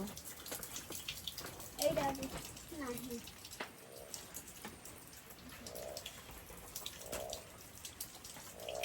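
Heavy rain falls steadily on a farmstead with a flooded cowshed, a continuous wash of dense pattering at moderate distance, with a few faint voices and tonal sounds now and then.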